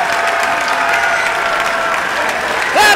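A crowd at the 2014 pig and Ford races applauds the world champion, a loud, steady wash of clapping that holds throughout, with a voice rising briefly at the end.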